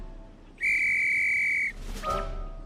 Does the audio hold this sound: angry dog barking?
no